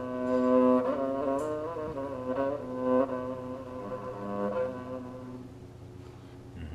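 A rebab, a bowed string instrument with a skin-covered body, plays low sustained bowed notes with a deep, resonant buzzing tone from the vibrating skin, heard close and alone.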